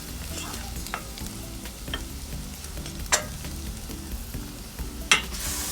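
Italian herbs fry in a hot pan before beef mince goes in, giving a soft continuous sizzle with occasional stirring scrapes and a couple of sharp utensil knocks, close up and without talk.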